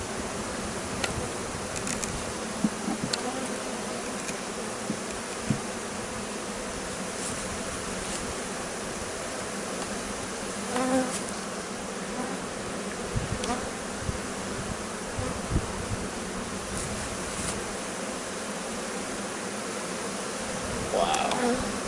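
Honey bees swarm around a hive during a massive beehive removal, a loud, dense, continuous buzzing over a long stretch, with scattered knocks and clatter of handling.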